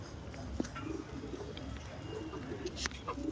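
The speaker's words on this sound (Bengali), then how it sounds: "এই গোলা পায়রাটাকেও নিয়ে এসেছি বাচ্চা তোলার জন্য" Soft, low rock pigeon cooing murmurs through the clip, with a couple of brief sharper sounds and steady background noise; no one speaks.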